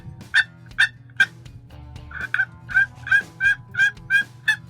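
Wooden turkey call with a chalked paddle scraped across its sides, producing a series of about eleven sharp, close yelping clucks, the first few spaced apart and the rest in a steady rhythmic run.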